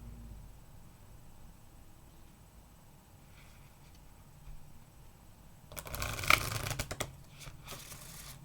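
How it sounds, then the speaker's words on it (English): Tarot cards are shuffled by hand during a quiet indoor reading, a quick burst of crisp riffling and flicking rising after a long stretch of faint room noise, followed by a few softer, separate shuffles. "it takes a little longer to shuffle so the cards can get where they want to be."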